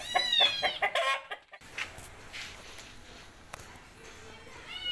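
An Aseel rooster, blind in one eye, gives a short burst of clucking and squawking up close at the start, then low background noise with faint voices.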